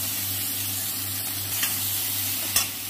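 Ginger paste, cumin paste and chopped tomato sizzle in a pan with a steady close hiss and low hum, broken by two brief stirring scrapes.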